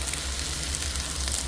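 Green onion sizzling in a frying pan, a steady, dense crackling hiss with no breaks across a short stretch.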